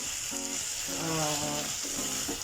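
Chicken afritada ingredients stirred in a frying pan: continuous sizzling frying with repeated scraping, rattling stir strokes in short bursts, close and fairly quiet.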